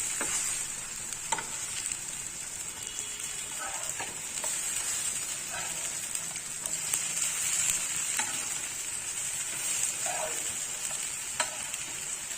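Raw banana slices frying on a dosa tawa, a continuous bright close sizzle with occasional light scrapes and taps of a turner across the hot iron.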